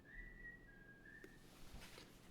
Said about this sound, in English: I'm gonna tell him to stop whistling.